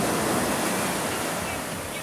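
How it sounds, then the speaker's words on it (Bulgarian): Ocean surf off Tenerife, where a small wave rises and breaks, giving a steady, close roar of rushing water and wind with no clear talking. "Оу, виж как се дигна тази вълничка"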